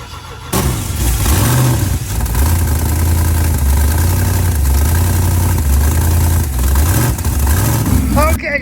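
An LS-swapped BMW go-kart engine runs loud and close, idling roughly with repeated revs rising and falling after a sudden start, as voices talk over it.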